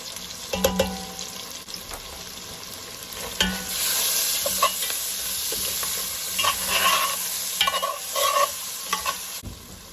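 Garlic stirred into a sizzling pot of homemade beef stew, a steady close fry hiss broken by repeated spoon scrapes and clatters against the pot, with no talking.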